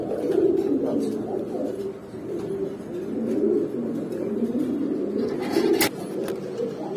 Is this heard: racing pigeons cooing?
yes